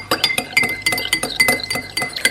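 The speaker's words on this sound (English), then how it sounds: "I'm going to stir this well." A spoon stirring a warm drink in a glass gives rapid, rhythmic bright clinks against the sides, about a dozen strikes in quick succession, close and loud with no talk.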